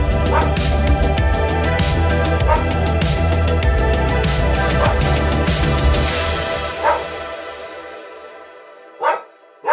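A pet dog barks indoors in a quick run of sharp, loud barks that gradually thin out. A few isolated, separate barks follow near the end.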